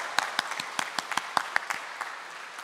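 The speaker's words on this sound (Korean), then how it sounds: "우리 한번 크게 박수 한번 보내드렸으면 좋겠어요." A church congregation applauds its parents, with a modest burst of distinct, separate claps at an uneven rhythm, close and moderately loud.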